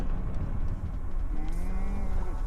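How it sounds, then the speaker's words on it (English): A cow moos loudly and close by, one drawn-out low call over steady outdoor background noise, heard along a cycling route on the Great Divide Mountain Bike Route in Colorado. "Hi, cow."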